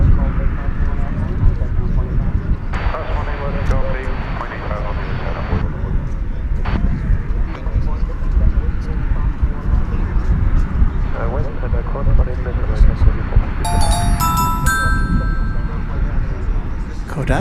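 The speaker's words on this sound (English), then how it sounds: "that's Alaska Airlines Flight 575. It's going to Seattle." An Alaska Airlines Boeing 737-800 bound for Seattle at DFW Airport, a broad steady engine roar with faint chimes, under near continuous talk.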